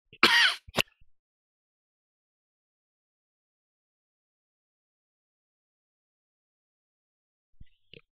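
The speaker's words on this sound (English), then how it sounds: "sorry about that cough" A single short cough or throat-clear sounds close by at the start, followed by near silence with a faint click at the end.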